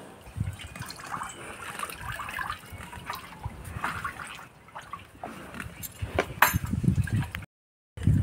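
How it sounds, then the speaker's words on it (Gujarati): A farm bull drinks from a trough, water sloshing and trickling with occasional clinks and splashes at close range, ending in a louder burst of movement. "તો મિત્રો બળદે પાણી પી લીધા છે."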